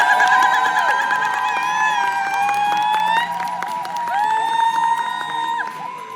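Crowd at a marketing seminar cheering and whooping as a speaker is welcomed on stage, loud and continuous with shouts and bright tonal music-like tones over the noise.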